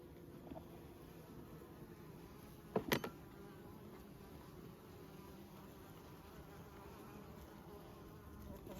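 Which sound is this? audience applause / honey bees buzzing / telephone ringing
honey bees buzzing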